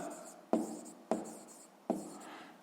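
Pen strokes scratch across paper as a math answer is written down for a sixth-grade exercise, three distinct close scribbles with brief gaps, quiet and without talk.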